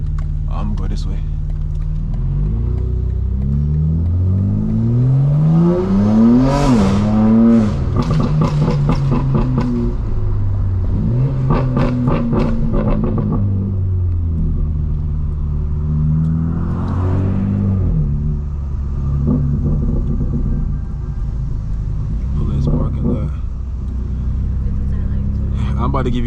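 Straight-piped 900 HP BMW M4 Competition driven through a parking deck and city streets, its engine loud and close, revving up and falling back in repeated surges with crackling, rumbling exhaust between pulls.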